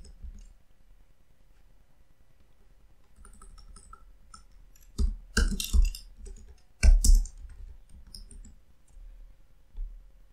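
A name being typed on a computer keyboard in After Effects: a few quick bursts of close, crisp key clicks separated by quiet pauses in a still room.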